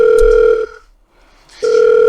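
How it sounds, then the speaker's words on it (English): Loud, close phone ringback tone: a steady electronic tone for about half a second, a brief gap of silence, then the tone starts again, with no answer and no talking. "Look, he can't even pick his fucking phone up."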